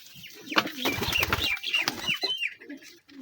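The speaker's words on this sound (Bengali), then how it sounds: "তো গিরিবাজ কবুতর।" A Giribaj pigeon bought at a market coos and burbles up close in short throaty phrases, with some fluttering and other birds nearby.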